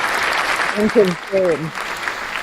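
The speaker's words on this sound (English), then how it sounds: "Round of applause." Applause fills the background as a steady, hissing clatter of clapping under a brief spoken phrase, continuing evenly through the short moment.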